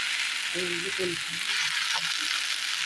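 Curry frying and scorching in a pan on a home stove, a steady broadband sizzle throughout with faint low voices murmuring briefly underneath.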